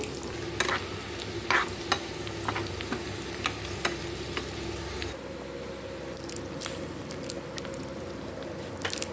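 Cashews and raisins frying in a pan, a steady close sizzle with intermittent stirring scrapes and clicks throughout, no voices.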